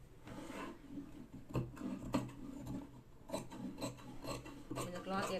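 Scissors cutting through chudidar dress cloth, heard as close, faint, irregular rasping snips and rubbing of fabric, with a few sharper clicks.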